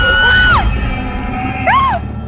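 Cheering in the Rec Room video game, heard as two bright, loud whooping cries whose pitch rises and falls, one at the start and a second near the end, over a steady low background.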